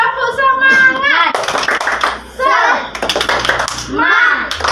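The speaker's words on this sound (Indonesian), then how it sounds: "Ayo kita ulang. Tepuk semangat." Children in an Indonesian classroom clap along to a call-and-response clap chant, rhythmic bursts of hand claps alternating with a teacher's voice and the kids shouting in unison, close and loud.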